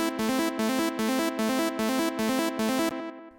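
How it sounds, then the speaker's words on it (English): Bright synth plucks from a build section repeat in a fast, even rhythm with a short delay trailing each note, loud and alone, stopping abruptly just before the end. "So we've then got the plucks during the build."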